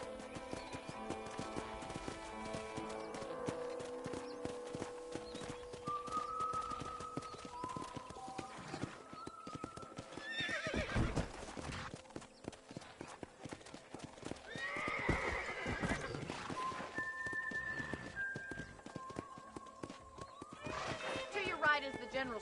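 Horse hooves clip-clop steadily as a horse neighs and whinnies a few times in Red Dead Redemption, with a voice speaking over the scene and light background music.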